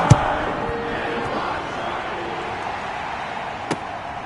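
Crowd noise in a video game football playoff match, a steady broad roar of stadium fans throughout with a sharp thump near the start and another brief knock toward the end.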